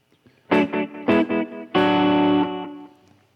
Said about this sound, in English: then you can have the slap back like the Brian Setzer